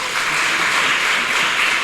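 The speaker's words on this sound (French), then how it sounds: "que je vous demande d'applaudir très fort" A crowd at an event applauds strongly, a loud, dense, steady roar of clapping hands throughout, close and without speech.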